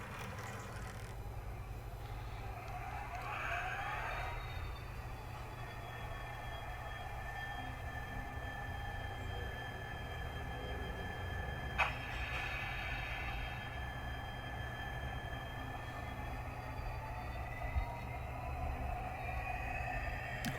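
A Hornby model military locomotive fitted with a DCC chip runs on a test track, giving a steady low motor hum with faint, wavering squeals rising over it. There is no speech.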